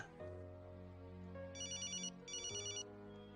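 A phone rings with two bursts of a bright electronic ringtone over a steady low hum, close and clear, with no talking.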